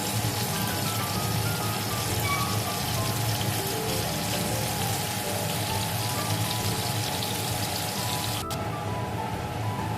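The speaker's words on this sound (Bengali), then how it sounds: "পনিরটা আমি হালকা করে ভেজে নিয়েছি, এখন নামিয়ে নিচ্ছি।" Paneer lightly frying in a pan for shahi paneer, a steady dense sizzle that runs continuously at moderate loudness, with a brief sharp clatter near the end.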